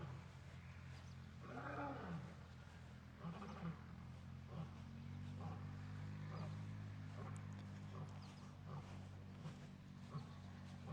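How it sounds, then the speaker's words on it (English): A lion roars at a wildcat sanctuary, a long series of low, deep grunting calls pulsing in a steady rhythm over about ten seconds, moderately distant with faint background ambience. "A little bit of a lion song there to cap off our live."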